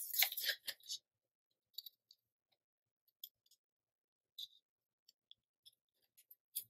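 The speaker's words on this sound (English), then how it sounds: "I'm going to trim around it real quick with just a pair of scissors." Scissors trim a thick, stiffened paper model tab in a burst of quick snips at first, then sparse, faint isolated clicks and cuts in a quiet room.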